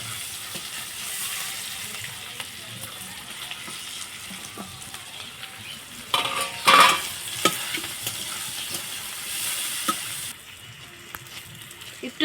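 Chopped onions fry in hot oil in a pan already tempered with cumin seeds, a steady sizzle with a few louder stirring scrapes near the middle, heard alone without talk.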